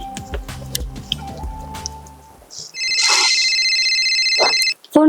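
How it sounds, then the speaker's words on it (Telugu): A phone ringtone sounds indoors, a steady electronic tone that rings for about two seconds and then cuts off. Softer music and dripping sounds come before it. "ఫోన్ వచ్చింది."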